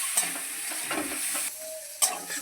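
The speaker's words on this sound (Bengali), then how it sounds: "এবার আমি লঙ্কা দিয়ে মানকচু খুব ভালোভাবে কষিয়ে নেবো" Taro being sautéed in a pan with dried red chili paste, a close sizzle broken by a few scraping stirs and a sharp clink of the spatula.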